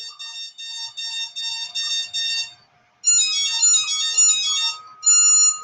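Electronic speed controller calibration beeps from a tilt-rotor drone motor: a run of short, evenly spaced beeps, then a pause followed by longer, higher multi-tone beeps, loud and clear.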